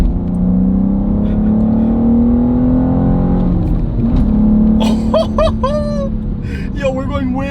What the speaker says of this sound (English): Let's push it a little bit here, shall we?